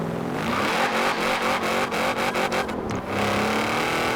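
A supercharged V8 in a 2012 Shelby GT1000 racing game car revs high and roars steadily, pitch rising and falling with gear changes and throttle, with brief dips between shifts; loud and continuous, no talking.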